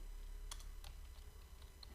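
Java code being typed on a computer keyboard during a programming lesson: a few quiet, scattered key clicks over a low background hum, soft and close, with no talking.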